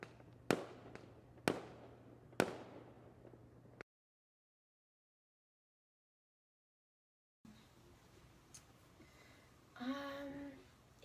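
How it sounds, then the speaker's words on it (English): Three sharp firework bangs set off by protesters ring out against a low hum, followed by a stretch of dead silence and then faint outdoor ambience. "The protesters are setting off fireworks."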